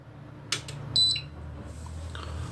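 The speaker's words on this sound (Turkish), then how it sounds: "bütün klimalarda duyduğunuz şekilde bir bip sesini almayı bekliyordum ve aldım" A single short electronic beep rings out clearly over a quiet background hum, preceded by a faint click, from a Vestel Nature+ air conditioner control board powered with 12 volts on a bench.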